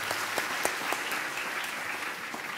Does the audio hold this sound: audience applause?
yes